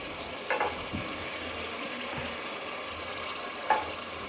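Chicken that has been browned for pulao fries in a pot as yakhni stock is added, making a steady sizzle with a few soft splashes and stirring clinks.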